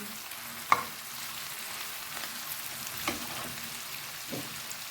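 Ingredients for plov fry quietly in a pan with a soft, continuous sizzle, plus one sharp knock and a few faint stirring scrapes.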